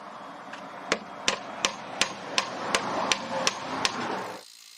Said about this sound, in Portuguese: Vou parafusar algumas ripas de telhado na borda para fechar o espaço restante.